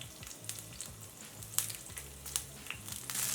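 Curry leaves and green chilli pieces frying in hot oil in a pan for a chilli tomato chutney, a steady close crackling sizzle with small pops and occasional stirring scrapes, no voices.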